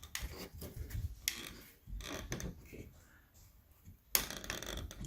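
A pipe cutter is turned around a leaky pipe, giving faint, close, irregular clicks and metallic ticking with short pauses between turns.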